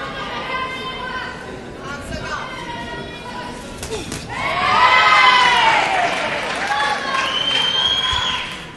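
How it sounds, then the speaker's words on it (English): Crowd at a women's elite boxing bout in Cornwall, Ontario, cheering and shouting as a combination lands, with excited voices swelling loudly midway and staying high, over an announcer's speech. "Crowd responds to another combination thrown by De Silva."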